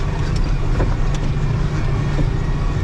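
A Massey Ferguson 5440 tractor clearing deep snow, its engine a loud, low continuous rumble heard up close, with wind buffeting the microphone.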